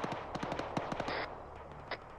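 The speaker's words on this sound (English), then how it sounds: "shots to our southwest" A quick string of sharp gunshot cracks during a military operation, about eight in the first second, sounding somewhat distant, followed by a brief hiss and one more pop.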